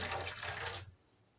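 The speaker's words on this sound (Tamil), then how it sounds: "இப்போ நல்லா சுட வச்ச தண்ணியை இந்த ரவை நல்லா முழுகிற அளவுக்கு தண்ணி சேர்த்துக்கலாம்" Hot water is poured onto semolina for masala puri, a steady splashing pour for just under a second that then cuts off to near quiet, with no talk.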